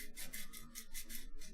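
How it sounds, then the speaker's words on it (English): Short rhythmic rasping strokes of sandpaper on a 3D printed plastic part, quiet and close, repeating in a steady back-and-forth pattern. "the part of this thing I'm sanding right now doesn't even need that much sanding."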